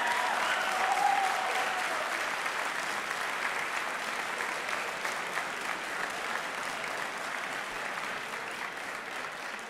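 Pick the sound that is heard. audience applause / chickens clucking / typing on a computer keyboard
audience applause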